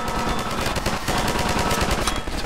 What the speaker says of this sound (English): The trouble with a lot of these turrets in Half-Life 2 is that you just can't help but get hit while you're manning them.